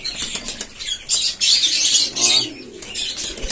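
Pigeons flap their wings in repeated bursts close by, with soft cooing underneath, in a pigeon loft at feeding time.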